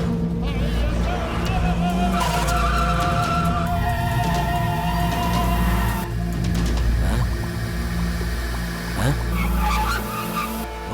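A car skids with long tire squeals over loud engine roar during a chase scene in a dubbed South Indian action film, thick with music and effects throughout.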